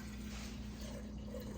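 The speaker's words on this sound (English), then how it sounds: "I'm going to take care of the byproduct, which is the buttermilk, and I'm just gonna pour it in a quart" Buttermilk left over from homemade butter pours steadily into a quart jar, a continuous liquid gush with a low gurgle, close and fairly loud throughout.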